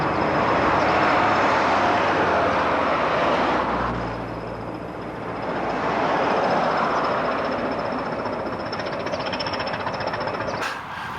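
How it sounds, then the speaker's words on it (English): The Denby Dawdler train on the old Denby branch line passes with a loud, broad rumbling roar that swells, eases, then swells again before cutting off. "Because you can see actually the train, the Denby Dawdler, come across here."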